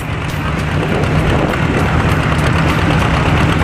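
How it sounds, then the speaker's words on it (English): A John Deere tractor engine idles close by, a loud, steady low rumble with a faint rhythmic knock running evenly throughout, no voices over it. "you hear the John Deere coming up behind"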